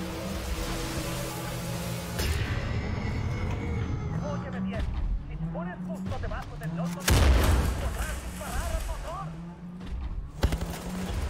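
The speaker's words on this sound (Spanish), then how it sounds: "eran tres disparos al motor este" Gunfire in the video game Wolfenstein: The New Order, aimed at an engine: loud bursts and booms over a droning game score, with a heavy impact near the middle and a sharp hit toward the end, while a voice talks throughout.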